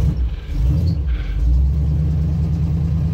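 A carbureted car engine catches and settles into a loud, deep rumble, holding a steady close low drone with slight rises as it revs, no talk over it.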